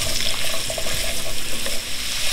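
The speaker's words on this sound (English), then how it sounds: "So I'm gonna go ahead and add all the vegetable in. Cook it for at least about 3 minutes." Vegetables go into a hot pot for short ribs, giving a dense, continuous sizzle with crackles and stirring clatter, close and fairly loud with no talking.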